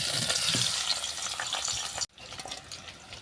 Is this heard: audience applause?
no